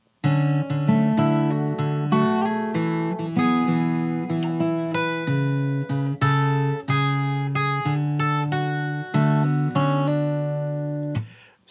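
A fingerstyle guitar plays the chorus line of a song as a steady run of plucked notes over a ringing bass. It sounds close and moderately loud, with no voices.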